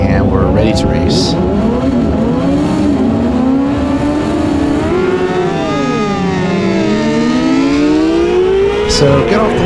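Middleweight race motorcycles launch off the line at an amateur road race, engines revving hard and rising in pitch as several bikes accelerate away together, loud and sustained with overlapping whines.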